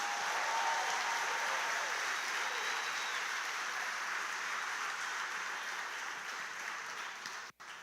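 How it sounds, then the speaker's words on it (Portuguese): A church congregation applauds for Jesus after a sermon, a steady dense wash of clapping from a large crowd that holds for several seconds and then tapers off near the end. "E dá o maior aplauso a Jesus."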